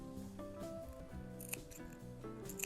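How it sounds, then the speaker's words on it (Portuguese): Small thread-trimming scissors snip notches into the curved seams of a patchwork coin purse, several quiet crisp clicks over a soft steady background hum. "Pode pegar a tesourinha de arremate também e fazer uns piques nas partes arredondadas"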